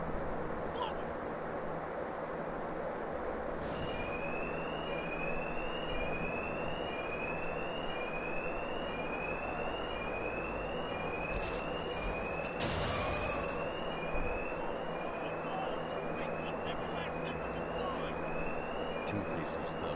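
An alarm in the video game Batman Arkham Knight repeats short, rising electronic tones at a steady pace over constant background noise, lasting the whole stretch.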